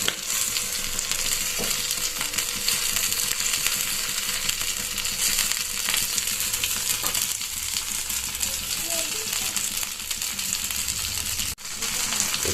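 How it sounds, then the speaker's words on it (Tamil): Sardines fry in a pan for a fish fry, giving a steady, dense sizzle and crackle that stays loud and even throughout, with a brief dip near the end and no talking. "எல்லா பக்கமும் ஃப்ரை ஆகிவிட்டது."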